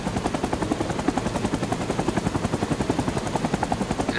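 Close rotor thumping from a helicopter in the Vietnam War video game Rising Storm 2: Vietnam, a fast, even pulse of beating blades that fills the whole moment without voices.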